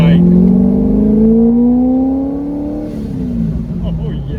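A supercharged C5 Corvette engine revs loudly and close by, its pitch climbing steadily and then falling away as it settles, with a voice speaking over part of it.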